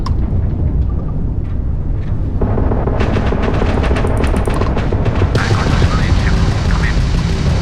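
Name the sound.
spaceship weapons firing in video game Starfield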